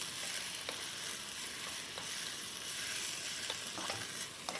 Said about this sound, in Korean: 볶아요.